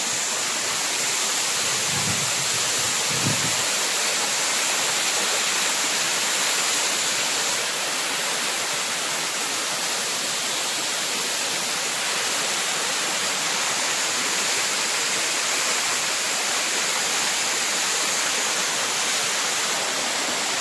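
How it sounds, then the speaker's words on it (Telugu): Water of the PedaByulu waterfall crashes over rocks in a loud, close, unbroken roar, with a couple of brief low thumps near the start and no talking. "నెక్స్ట్ లెవెల్ వాటర్ ఫాల్ ఇది."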